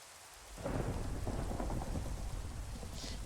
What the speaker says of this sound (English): But this time, I want to do it with a thunderstorm.